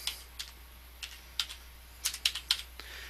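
Keys on a computer keyboard tapped in a quick, uneven burst of crisp clicks, close and clear with no voice over them.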